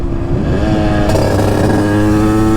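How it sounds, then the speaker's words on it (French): Several 50cc motorcycles sit idling as they warm up, their small engines running in a steady, loud buzz with harmonic drone, one engine lifting slightly in pitch partway through. "On va laisser les motos chauffer tranquillement."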